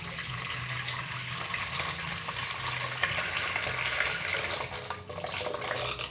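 Water runs from a tap into a cooking pot for pancit canton in a home kitchen, a steady close splashing stream that continues throughout with no talk.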